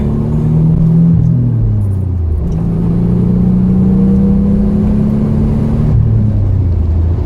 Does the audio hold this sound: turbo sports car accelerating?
yes